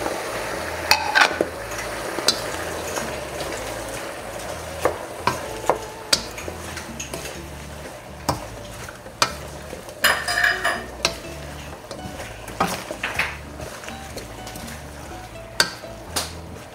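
Bok choy and tofu being stir-fried in a pan: a steady sizzle with frequent scraping and clanking of a utensil against the pan, loud and close, with no talking.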